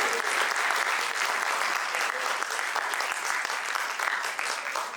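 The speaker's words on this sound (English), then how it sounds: "big round of applause for Dr. Sankar." Sustained applause from an audience, a dense steady patter of clapping that fills the whole stretch without a break.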